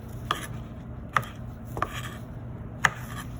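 A knife cross-cuts broccoli on a cutting board in four sharp, separate chops spaced unevenly over a low background hum, close and crisp with no talk.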